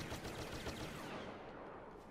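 Rapid blaster-style gunfire from Star Wars Battlefront on an icy cave map, a dense, loud burst of repeated shots sustained throughout the short moment.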